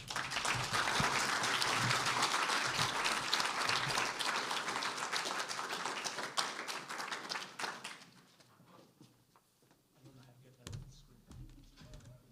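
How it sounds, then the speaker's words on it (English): Audience applause after a faculty presentation, a dense burst of clapping that holds strongly for about eight seconds, then thins to scattered claps and fades, with a few knocks and murmurs at the end. "More applause for Ron."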